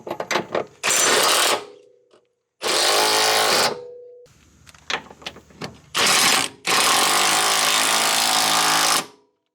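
An impact gun runs Subaru BRZ / Scion FR-S subframe bolts back in, in four loud, sustained rattling bursts. Between the bursts come short ratcheting clicks and moments of quiet.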